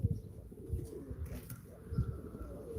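Pigeons coo repeatedly at a live pigeon auction, soft low throaty calls recurring in bursts against a steady background of distant murmur and room noise.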